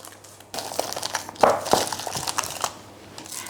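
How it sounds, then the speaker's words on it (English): Aluminium foil scrunched over a pudding basin to seal it, a run of close crinkling and crackling with sharper crunches partway through, no voices. "I get a bigger square of aluminium foil and scrunch it"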